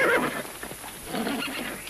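A horse neighs loudly and close by in a film scene, one strong whinny at the start that trails into softer snorting and shuffling.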